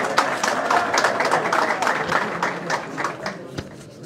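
Applause ripples through a political rally crowd for Awami National Party leader Aimal Wali Khan, a steady wash of many hands clapping at moderate distance with a few sharper claps standing out, fading slightly toward the end.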